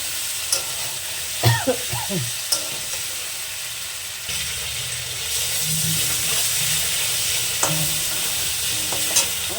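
Fish and yam curry sizzles and hisses as it is stir-fried, with a spatula knocking and scraping the pan in a few bursts over a steady frying crackle and no speech.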